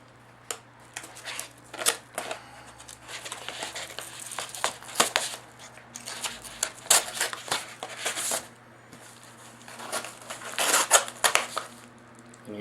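A knife slices open an undamaged shipping envelope holding a Raspberry Pi 3, giving close, crisp bursts of tearing and crinkling paper in uneven spurts, with quiet pauses between cuts.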